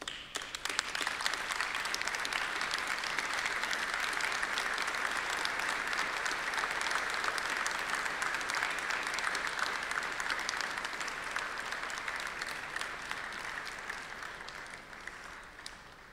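Sustained audience applause at a university graduation ceremony, dense and steady across the hall, staying strong throughout and tapering slightly toward the end.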